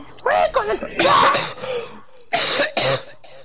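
Harsh coughing bursts mixed with vocal noise, then two short, sharp coughs after a brief pause, close to the listener.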